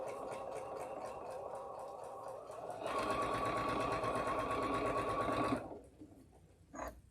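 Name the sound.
sewing machine stitching fabric seams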